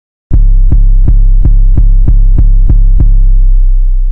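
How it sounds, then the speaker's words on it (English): A heavy 808 sub-bass note, distorted by a plugin, throbs in a steady pulse of about ten even hits, loud and gritty, with no voices. "All I did was I added some distortion to it."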